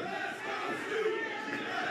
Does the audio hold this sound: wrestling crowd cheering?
yes